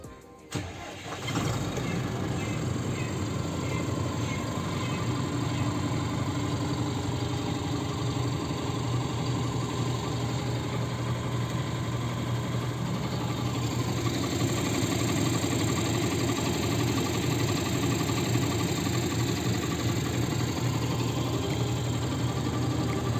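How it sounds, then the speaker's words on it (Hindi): An Eicher Pro 2114 XP BS6 truck engine cranks and catches, then settles into a steady, loud diesel idle heard from inside the cab for the rest of the stretch. "तो चलो गाइस अभी करता हूँ व्हीकल को ऑन और देखते हैं इसका स्टार्टिंग साउंड कैसा है।"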